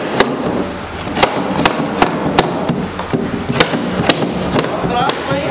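A hammer strikes a Volkswagen EA211 engine in a workshop: about a dozen sharp, loud metallic blows at an uneven rhythm, each ringing briefly over a low background murmur.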